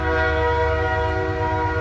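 A train passes with its horn blaring in a loud, sustained, steady chord over the rumble of the rail cars.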